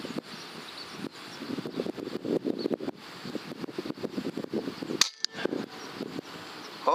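An air rifle fitted with a 32 barrel fires once outdoors, giving a single sharp, short crack midway through. The shot stands out over gusty wind noise and rustling.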